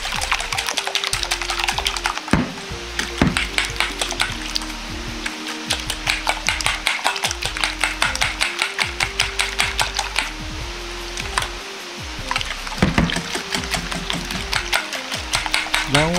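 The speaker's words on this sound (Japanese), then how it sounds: "卵のコシを切るようにしてよく混ぜておきます。" Eggs lightly seasoned with salt and pepper are beaten in a bowl, with a quick, steady run of close clicking strokes that keeps up without pause and no talking over it.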